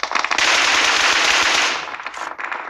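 Rapid automatic gunfire in a shooter video game forms a dense, loud, continuous crackling burst that tapers off near the end.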